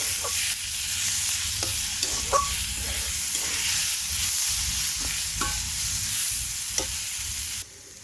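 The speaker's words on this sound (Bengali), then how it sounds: "লাল লাল হয়ে গেছে শাকগুলো, কড়াইতে লেগে যাচ্ছে।" Radish greens and potatoes frying dry in a wok until browned and sticking, a continuous loud hiss and sizzle with repeated spatula scrapes and taps, dropping off abruptly near the end.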